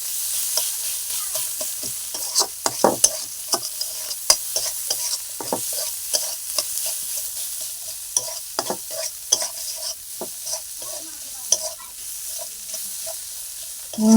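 Stuffed kakrol, a spiny gourd, fries in a pan while it is stirred. There is steady sizzling throughout, with frequent scraping and clinking from the stirring utensil, close and fairly loud, and no talking.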